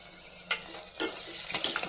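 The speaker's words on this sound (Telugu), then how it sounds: "ఆనియన్ వేసుకోవాలి ఇది కొంచెం గోల్డ్ బ్రౌన్ కలర్కి వచ్చే వరకు బాగా వేయించుకోవాలన్నమాట" Chopped onions fry in a pan, heading toward golden brown: a soft, steady sizzle broken by a few sharp scraping and stirring strokes, close and fairly quiet, with no one talking.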